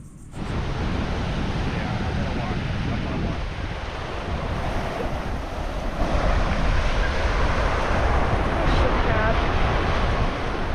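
Ocean surf on the far shore of an island, reached after crossing a desert, roars continuously with strong wind buffeting the microphone, loud and steady throughout.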